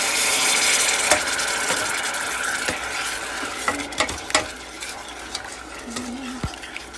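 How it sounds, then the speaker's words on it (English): A wooden spoon stirs sugar into pineapple juice for a coconut pound cake batter, making steady wet scraping and sloshing with scattered clicks and knocks against the bowl, close up with no talking. "I'm gonna let that sugar dissolve. I'm gonna stir."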